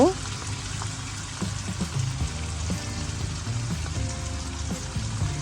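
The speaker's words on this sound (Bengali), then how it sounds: "এখন নেড়ে চেড়ে আবার ঢেকে দিব" Bottle gourd and eggplant curry cooks in a pan with a soft, continuous sizzle and occasional stirring knocks, close by, with faint tonal background sounds under it.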